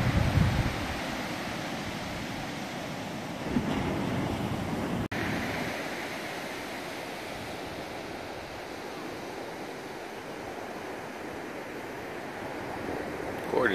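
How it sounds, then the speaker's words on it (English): Ocean surf rolling in on Jalama Beach, a steady broad wash of breaking waves with wind noise on the microphone and no voices, holding constant throughout. "Surf fishing in Jalama Beach."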